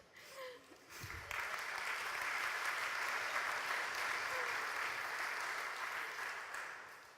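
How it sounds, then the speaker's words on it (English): Audience applause at a campaign news show event, a fairly quiet, dense, even patter of many hands that swells after a brief pause, holds steady for several seconds, then fades slightly. "I guess you're going to have to applaud again for me."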